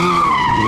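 A motorcycle tire squeals in a loud, sustained skid during illegal stunt riding at sunset in Libya, with the engine droning beneath it.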